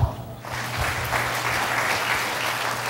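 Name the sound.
church congregation applauding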